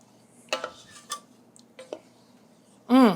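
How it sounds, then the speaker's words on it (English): A spoon stirs vanilla into cherry sauce in a pot, making a few quiet metallic clinks and scrapes spread across a moment, followed by a short burst of voice near the end. "Stir that in."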